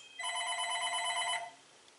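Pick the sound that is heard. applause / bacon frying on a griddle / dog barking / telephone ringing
telephone ringing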